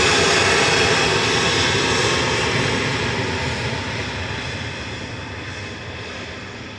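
A jet airliner departs Manchester Airport for Tenerife South, a loud, steady engine roar with a faint high whine that slowly fades as it moves away.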